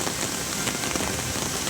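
Heavy rain pours at Athirappilly, a dense, loud, unbroken hiss of drops striking surfaces close by, with no voices.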